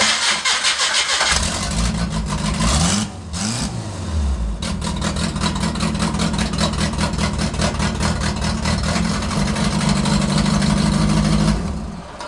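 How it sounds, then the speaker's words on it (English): A demolition derby car's engine cranks and catches, then settles into a loud, rough, steady running note close by, continuing for several seconds before dipping slightly at the end. "And then I'll put it in neutral and start it up."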